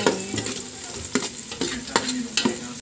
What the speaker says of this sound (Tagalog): garlic, I will put garlic. Make it ano golden brown a little bit.